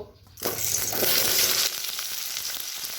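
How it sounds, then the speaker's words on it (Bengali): Potatoes hit hot oil in a wok and burst into a loud, steady sizzle that stays close and continuous, settling to a slightly lower but constant frying hiss with no talking. "তেল গরম হয়ে গেছে আলুটা দিয়ে দেবো"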